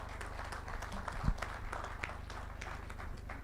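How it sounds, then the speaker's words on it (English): Audience applause at a panel talk on moonlighting and hybrid entrepreneurship, moderate clapping over a persistent low hum, with a brief thump midway. "Huge round of applause for Mr."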